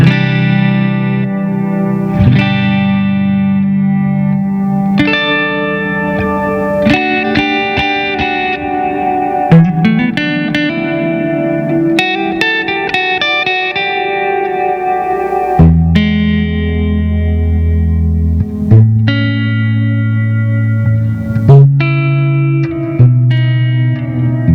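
Electric guitar played through a Strymon Flint or Red Panda Context reverb pedal, color knob darkened and decay raised, ringing chords and single notes blooming into long, washy tails that sustain loudly throughout with no talking.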